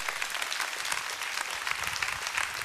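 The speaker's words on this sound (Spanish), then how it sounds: "Aplauda fuerte al Rey." A church congregation applauds loudly and continuously, a dense wash of many hands clapping at once from a full room.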